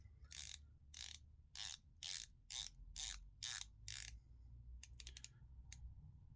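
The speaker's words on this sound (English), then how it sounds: "it has a really nice balance between the clicky feel and the smoother, subtle glide" A Hexmariner 42 watch bezel being turned gives a quiet run of crisp clicks in short, regular bursts, followed by a quick flurry of faster ticks, heard close up with no voices.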